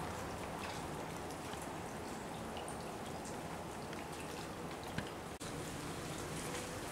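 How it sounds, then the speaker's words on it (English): Monsoon rain drips and patters steadily on surfaces outdoors, a dense, even spatter of drops with a brief knock near the end and no voices. "it's just kept on dripping for an hour or two"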